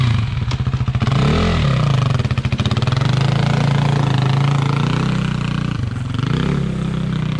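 A quad bike's engine cranks, catches and settles into a loud, close, steady chugging idle, dipping briefly once before running on.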